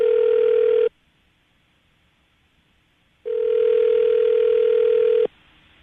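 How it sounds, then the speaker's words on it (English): Ringback tone on an outgoing phone call, two long steady tones separated by a pause of silence, clear and close with no talking. "All right, Anthony, I'm going to call her right now, okay?"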